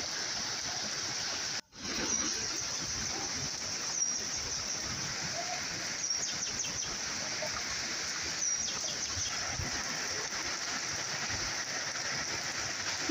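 Steady rain falling in a village, a continuous even hiss throughout with a brief dropout early on and faint chirps in the background.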